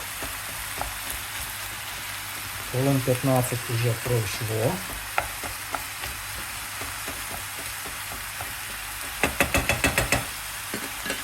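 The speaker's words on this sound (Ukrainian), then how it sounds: "а тут ми обсмажуємо уже овочі з м'ясом, з фаршем" Vegetables and minced meat sizzle and crackle steadily in a pan, with occasional knocks and scrapes of stirring and a short stretch of someone talking.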